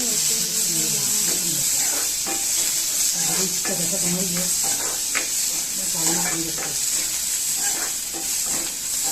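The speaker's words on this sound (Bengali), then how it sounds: "এই তেলের মধ্যে পেঁয়াজ কুচি পেঁয়াজ কুচি দিয়ে ভালো করে একটু নেড়ে চেড়ে মিশিয়ে নিব তেলের সাথে" Chopped onions frying in oil for a Bengali-style egg bhuna, with a constant loud sizzle and hiss and repeated scraping stirs of a spatula in the pan.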